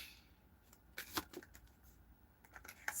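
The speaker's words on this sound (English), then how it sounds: "Shuffle." Tarot cards are shuffled in short, soft papery bursts, a few quick riffling flurries close by and fairly quiet, with no talking.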